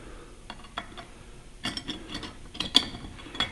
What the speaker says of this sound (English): grab my router wrenches, lefty-loosey